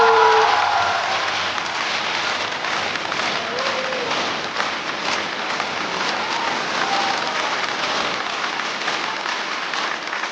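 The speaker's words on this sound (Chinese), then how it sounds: "掌声欢迎不辣" A studio audience at a Chinese stand-up comedy show greets a comedian with steady, dense applause that sounds like a continuous wash of clapping, holding at an even level from start to finish.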